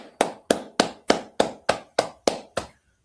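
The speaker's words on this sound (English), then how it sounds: "Alright, clap it up." Eight sharp, evenly spaced claps ring out at a steady beat, close and crisp, during a Jamaican law class gathering. A brief silence follows the last clap.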